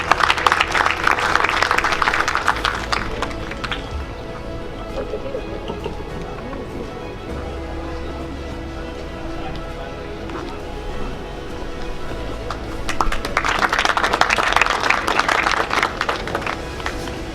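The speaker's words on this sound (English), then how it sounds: "With a huge round of applause, please." An audience at an educational conference in Thatta breaks into applause as an honoree is presented, with loud bursts of clapping at the start and again near the end around a quieter, murmuring stretch.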